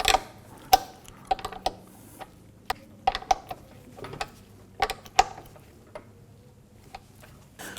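Ratchet snugging up bolts on a Cadillac Escalade intake manifold: a series of sharp, close metallic clicks and ticks in irregular clusters, separated by short quiet gaps.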